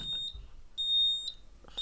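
Sharp, high electronic beeps sound from a Simplex 4006 fire alarm panel, a short tone then a longer one, close and clear with faint clicks between.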